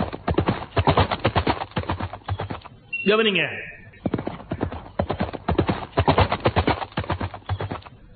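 A man imitates a horse's neigh with his voice, a short whinnying burst rising and falling, set between stretches of his own continuous speech in a lecture.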